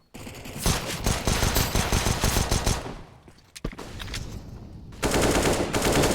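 Gunfire crackles in a Counter-Strike match on Inferno, with rapid loud shots in clusters, a short lull with scattered single bangs, then another heavy burst at the end, attributed to pistols.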